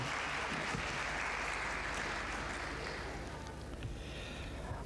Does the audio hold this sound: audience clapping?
yes